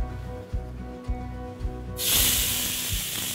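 Beef hits a hot pan and bursts into a loud, sustained sizzle about halfway through, a broad hiss that stays strong to the end, preceded by a low steady hum and a few soft knocks.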